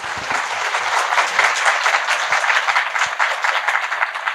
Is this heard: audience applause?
yes